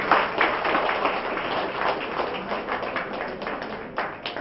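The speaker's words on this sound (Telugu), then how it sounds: "Give a big clap." Audience applause at a film success celebration for a Telugu historical movie: continuous dense clapping from a crowd, steady and moderately loud for several seconds.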